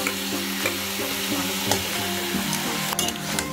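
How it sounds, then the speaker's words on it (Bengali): Small new potatoes frying in a little oil with a ginger, garlic and whole garam masala paste and peppercorns sizzle steadily while a spoon scrapes and stirs the pan in repeated close strokes. "দিয়ে আমরা মশলাটা দিয়ে ভালো করে আবার কিছুক্ষণ কষিয়ে নেবো।"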